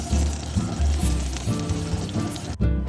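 Sliced eggplant frying in hot oil in a pan, a dense, loud, continuous sizzle and crackle heard up close without a break.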